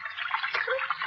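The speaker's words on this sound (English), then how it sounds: "The water runs quite strongly here, doesn't it, The largest sewer of them all." Water rushes steadily through a large sewer as a radio drama sound effect, forming a continuous close wash of flowing noise with no pauses.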